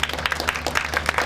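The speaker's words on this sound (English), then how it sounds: "I think he deserves a wave and a round of applause" Audience applause at a public debate on teaching creativity, a short burst of dense clapping from a room of people, fairly close and continuous.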